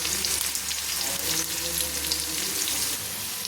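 Onions frying with ginger and garlic in a pan, a steady, close sizzle with soft crackle and occasional stirring scrapes, continuous for the whole stretch with no talking.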